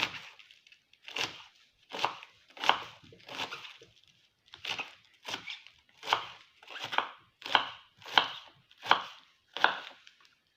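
A knife chopping young, soft, juicy cabbage on a board in short bursts of crisp, close cuts, a steady rhythm with brief pauses between strokes.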